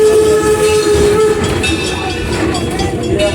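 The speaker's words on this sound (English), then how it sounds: "It's a steam locomotive, so there's going to be soot." A steam locomotive at Greenfield Village runs close by in a loud, continuous rumble with steady hissing, and a sustained whistle tone sounds through the first second or so before the rolling train noise carries on alone.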